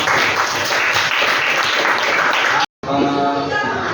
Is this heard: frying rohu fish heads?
no